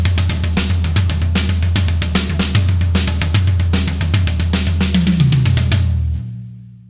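A drum kit plays a fast, busy lick of rapid hand strokes across the drums and cymbals with no bass drum, loud and close, then rings out at the end.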